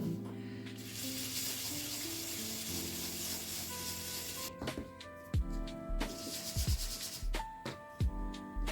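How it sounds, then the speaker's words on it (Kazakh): Soft dry rubbing and scuffing as cottage cheese syrniki dough is rolled into balls in flour by hand, heard as irregular bursts over background music. "Ұнға ұнатып аламыз бұны. Осындай домалақтап аламыз."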